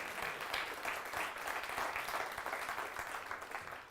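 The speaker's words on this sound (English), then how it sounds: "give him a round of applause" Faint applause from a crowd, steady hand clapping that sounds distant and quiet throughout.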